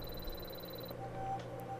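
Frogs croak amid the ambient swamp soundscape of the Beyond Good & Evil HD video game, a steady moderate background with a few thin tonal calls and no talking.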